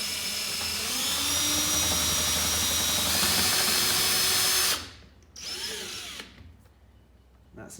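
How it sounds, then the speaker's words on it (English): A power drill whines steadily and loudly up close as it drills out rivets on a Toyota ST180, then stops and gives a couple of shorter bursts before falling quiet. "The easiest way to remove anything riveted onto your car, well, the only way really, is with a drill"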